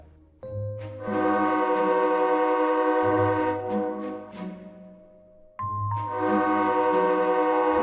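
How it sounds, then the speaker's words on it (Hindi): Cartoon-style train approaching along a railway track near a station, rendered as a tonal horn-like chord that sounds repeatedly in loud sustained blasts over a rhythmic chugging low end, with a brief dip before the blasts return. "दूसरी ओर पटरी पर ट्रेन आ रही थी।"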